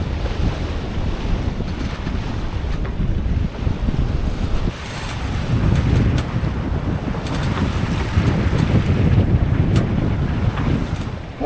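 Steady wind and rushing water aboard a sailboat beam reaching off Baja, Mexico, a constant loud roar of wind across the microphone with waves washing along the hull, no talk.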